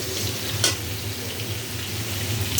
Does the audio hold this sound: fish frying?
yes